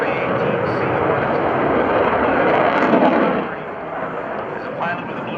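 Loud roaring jet noise from an F/A-18C Hornet during an airshow demonstration at NAS Oceana, a broad rumbling blast that swells and then drops off partway through, with a voice talking over it.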